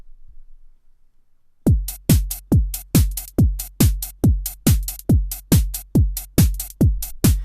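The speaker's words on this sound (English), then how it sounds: "here we are on the drum track using Noise as well with the Dance Groove Kit" Drum groove from the Dance Groove Kit in the Noise AUv3 app: after a quiet start, a steady run of punchy kick-and-hit beats in a fast, even pulse, loud and alone with no voices.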